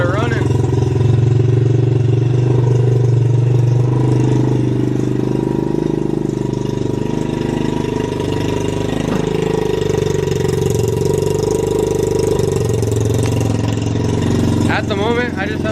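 Pit bike engine running and idling steadily up close, a loud continuous mid-pitched drone that holds level throughout, with a brief rattle near the end.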